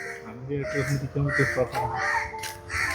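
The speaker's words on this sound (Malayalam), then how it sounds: "കാക്കയും കരയുന്നുണ്ട് അത്യാവശ്യം കിളികളെല്ലാം കരയുന്നുണ്ട്" A crow caws in short repeated bursts alongside other bird calls in an urban forest in Thodupuzha, Kerala, with a voice talking over the top.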